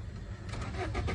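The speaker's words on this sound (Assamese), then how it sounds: "আহক মই গাড়ীখন আপোনালোকক এবাৰ ষ্টাৰ্ট কৰি কেনেও শুনাই দিওঁ। ইঞ্জিনৰ চাউণ্ডটো শুনি লওক আপোনালোকে এবাৰ।" A diesel Fiat Punto engine cranks and starts, the low rumble quiet and steady through a short stretch with no talk over it.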